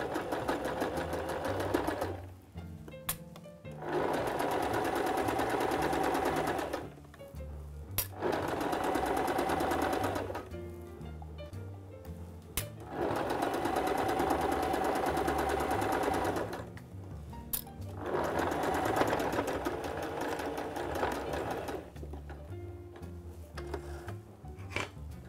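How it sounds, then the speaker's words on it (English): A sewing machine edge-stitching a dress made from a pillowcase runs in several steady bursts of rapid stitching, with short pauses and brief reversing between runs, close and fairly loud. "I'm stitching with my needle quite close to that edge. This is called edge stitching."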